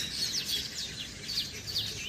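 Small birds known locally as chua-kilo chirp and tweet from palm trees at sunset, a busy overlapping chorus of high, repeated calls at moderate distance with no talking.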